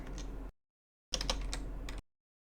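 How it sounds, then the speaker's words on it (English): Quiet computer keyboard typing as numeric values are entered, two short bursts of rapid clicking keystrokes separated by a pause, close and soft, with no voices. "I'm just going to type in these values."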